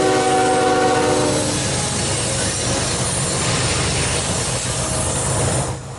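CN northbound unit grain train in winter, passing close and loud with a horn blast at the start and a continuous roar of wagons and wheels that fades slightly at the end.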